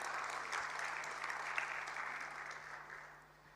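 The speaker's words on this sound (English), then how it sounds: "Let's please give her a big round of applause." A short round of clapping from a dinner audience at a budget review event, fairly thin and steady before tapering off toward the end.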